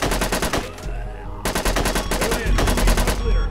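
Rapid automatic gunfire in a VR shooting game, a dense burst of close, loud shots that breaks briefly and then resumes without pause.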